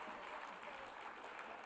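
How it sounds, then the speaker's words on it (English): An awards ceremony audience claps briefly, a faint, steady patter of many hands heard at a distance. "Another round of applause."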